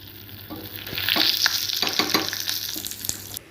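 Mustard seeds, dried red chilies and curry leaves tempering in hot oil, a close sizzle and crackle with scattered pops and a few stirring scrapes.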